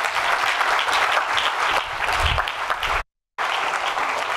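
Lecture audience giving a warm round of applause to welcome a speaker, dense, loud sustained clapping from many hands, with a brief cut to silence near the end before it resumes.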